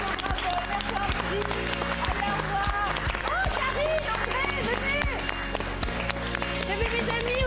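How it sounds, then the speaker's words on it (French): Studio audience applause on a French talk show, a dense wash of clapping sustained throughout beneath overlapping voices and music. "Passez-moi un petit applaudi"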